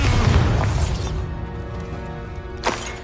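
A Bombarda spell explosion in the video game Hogwarts Legacy: a loud, close blast with a heavy low rumble that decays over about a second, followed by a lingering ringing tail and a second smaller impact.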